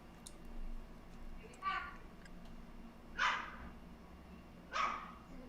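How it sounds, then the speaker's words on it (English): A dog named Dundee barks in three short, sharp bursts spaced about a second and a half apart, moderately close, with low background noise between the barks. "Oh, listen to that dog"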